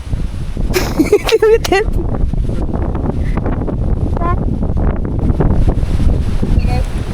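Strong wind roars and buffets the microphone steadily, while a voice speaks briefly early on over the blustery rumble.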